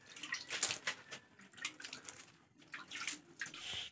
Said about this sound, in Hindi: अभी पानी लगा रहा है जमीन में